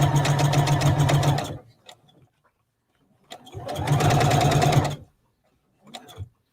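A sewing machine stitches in two loud close bursts of rapid mechanical clatter, with a pause between them filled by small clicks and handling noise.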